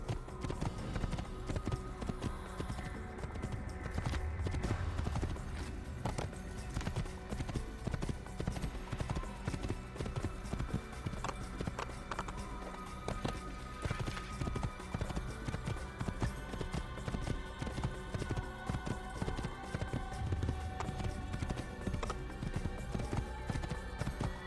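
Horse hooves clip-clop in a steady, rhythmic trot while riding in the Assassin's Creed video game, with game ambience and music underneath throughout.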